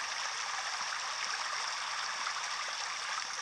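A steady, even river ambience with rushing and trickling water plays from a relaxation sounds app, a continuous soft wash of flowing water with no voices.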